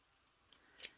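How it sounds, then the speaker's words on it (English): Scissors snip through a strip of tape, cutting it lengthwise, with two quick crisp snips, a light one midway and a louder one near the end, in an otherwise quiet room. "now you're going to cut it in half longwise so that it's a little bit skinnier"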